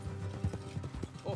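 Horse hooves trot along an off-road trail in the Red Dead Redemption 2 video game, the rhythmic clip-clop steady and fairly close, mixed with riding ambience and a voice talking over it.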